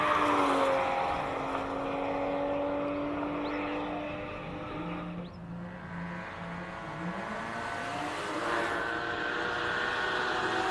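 Porsche 981 Boxster race car at a hillclimb, its engine note droning at a distance, rising and falling through gear changes as it climbs, fairly faint under open-air ambience.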